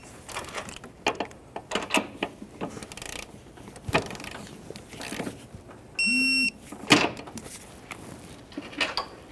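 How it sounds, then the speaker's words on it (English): A ratchet snugs the upper shock mounting nuts on the front of a 2002-2009 Chevrolet Trailblazer, giving irregular bursts of metallic clicks close up, with one short electronic beep midway. "Now up in here, we'll put on our upper mounting nuts. We'll start them in, snug them up, and torque them to 33 foot-pounds."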